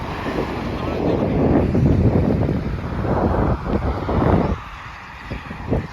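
Strong wind on an aqueduct bridge at Chuvannamannu buffets the microphone in loud, continuous gusts, roaring and rumbling before easing slightly near the end.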